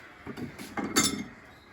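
Dishes, pots and cutlery clink and clatter as food is plated, a few close metallic taps and scrapes in quick, uneven succession.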